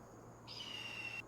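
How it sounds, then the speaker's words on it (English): A single shrill, sustained bird call in the video game Farming Simulator 2025 rings out for under a second over quiet background hum. "Oh god, there was a loud bird."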